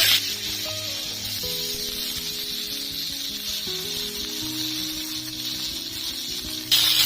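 Small cut potato pieces sizzle and fry in hot oil with a steady, dense hiss that holds evenly throughout, a low tonal hum running beneath and a brief rise at the end.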